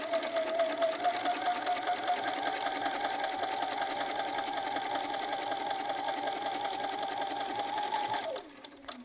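A sewing machine stitches steadily across the corner of a welt pocket, a continuous close whirring hum for about eight seconds before it stops abruptly, followed by a brief click.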